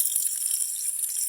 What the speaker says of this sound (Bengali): পেঁয়াজ দিয়ে দিছে।